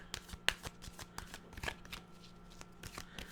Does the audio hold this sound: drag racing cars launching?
no